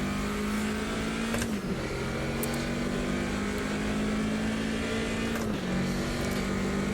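A race car in Automobilista 2 holds a steady, droning engine note with two brief dips in pitch as the throttle lifts, then picks back up, with no talk.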